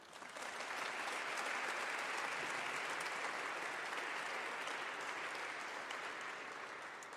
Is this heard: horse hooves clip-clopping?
no